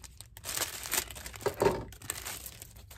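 Crinkling and tearing of wig packaging being cut open, close and moderately loud, a few seconds of rustly plastic handling without talk.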